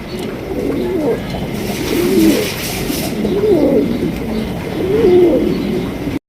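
A pair of white Danish pigeons give four soft, rolling coos at an even pace, each one distinct and close over a low background hum.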